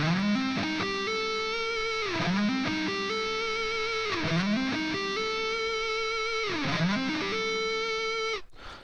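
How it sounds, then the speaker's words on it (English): A heavily distorted electric guitar plays fast hammer-on sweep-picked arpeggios, the rising and falling note runs repeating in a steady loop, loud and sustained, before cutting off near the end. "I'm going to play the hammer-on lick, the hammer-on arpeggio"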